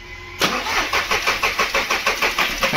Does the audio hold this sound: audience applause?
no